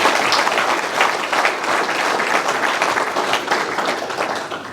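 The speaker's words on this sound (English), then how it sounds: "but a round of applause for Tony Worthington." Sustained audience applause for a rugby player at a combined schools first XV team naming, dense steady clapping filling the whole stretch without a break.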